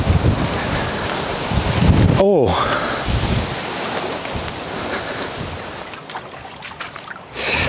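Wind and choppy waves on a lake during a fishing competition make a constant rough, rushing wash, close and fairly loud, with a brief voiced exclamation partway through.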